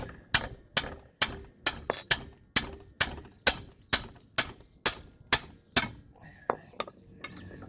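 Sharp metallic hammer strikes on a wrench to loosen nuts on a 2000 Kia Sportage ring out in a steady rhythm, about a dozen evenly spaced clanks, then a few scattered hits.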